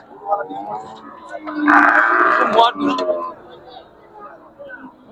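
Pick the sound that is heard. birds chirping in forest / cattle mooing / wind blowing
cattle mooing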